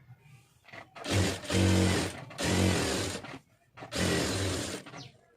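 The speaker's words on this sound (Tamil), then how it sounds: "இப்போ அப்படியே தையல் ஓட்டிடுவோம்" A sewing machine stitches a lined blouse in three loud, sustained runs of about a second each, separated by short pauses. The machine is heard alone at close range.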